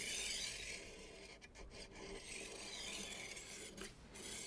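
A quiet, gritty rasping as a knife is drawn through the deburring side of a Seecode diamond roller sharpener, a couple of scraping passes, close and faint with no talking.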